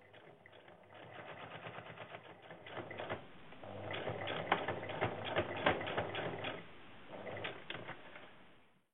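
A sewing machine runs in steady bursts of rapid mechanical stitching along a thick, pinned patchwork border, pausing briefly between runs; close and clear, no talking.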